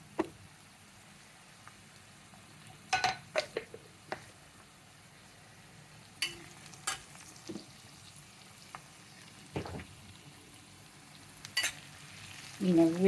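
Spices such as chili powder and coriander powder frying in a pan for masala oats, heard as a faint low sizzle with scattered stirring scrapes and clicks, a few sharper utensil knocks, and a louder burst near the end.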